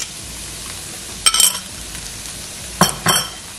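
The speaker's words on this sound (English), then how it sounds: "Okay, that's sizzling." Beaten eggs sizzle steadily in a hot frying pan over other ingredients, with a few short scraping and clinking bursts from a utensil stirring the pan up close.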